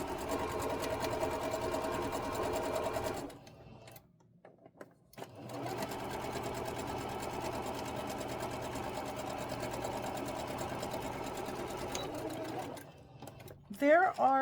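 A sewing machine stitches a stack of quilt blocks together in two long, steady runs of rapid mechanical whirring, separated by a brief pause, with a faint voice heard under it.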